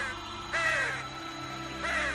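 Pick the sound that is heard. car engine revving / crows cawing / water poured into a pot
crows cawing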